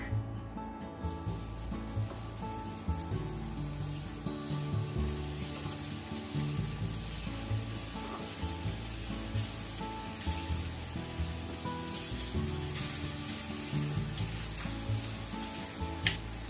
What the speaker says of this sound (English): Heat up some vegetable oil in the frying pan over medium heat. And let's saute the pork.